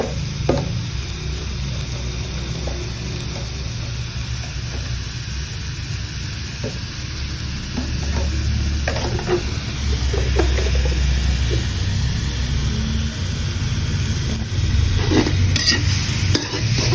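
Ingredients for Lao-style bamboo shoot curry are stir-roasted in a hot pan, giving a loud, steady sizzle with repeated scraping strokes of the stirring utensil throughout, growing slightly louder toward the end.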